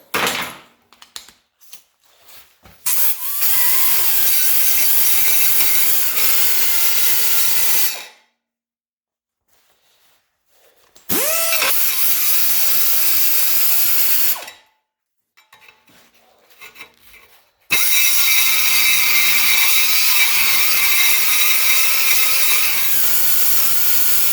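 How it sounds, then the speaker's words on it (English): Die grinders round off welds on sheet metal in three long, loud, high-pitched whining bursts, their pitch shifting as they spin up and bite the metal, separated by pauses of near silence. "I got my two die grinders. Okay, I'm going to round it off this one here first"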